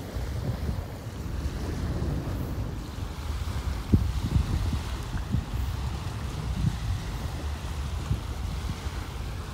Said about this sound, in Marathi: भरपूर वारा आहे